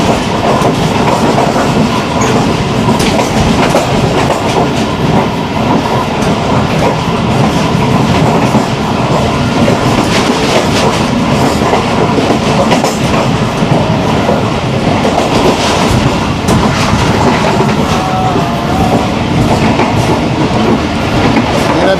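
A Pakistan Railways express train runs at speed, heard from inside the guard cabin, with a loud, continuous rumble and rhythmic clickety-clack of wheels over rail joints carrying on steadily throughout.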